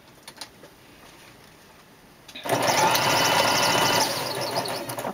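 Sewing machine running a straight stitch around the edges of a fabric place mat, starting after a quiet pause and then buzzing steadily and loudly up close.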